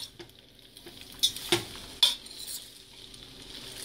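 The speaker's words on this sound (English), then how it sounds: "want to mix it up until the noodles thoroughly cooked and you don't see any butter at the bottom of the pan" Noodles are stirred with butter in a pan over a faint sizzle, with a few sharp utensil scrapes and clinks against the pan, close and quiet.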